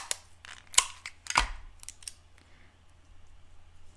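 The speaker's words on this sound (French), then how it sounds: "Et là, du ruban adhésif." Adhesive tape being pulled and pressed onto a handmade gardeners' pocket card, heard as a few short crisp tearing and crinkling bursts close by in a quiet room.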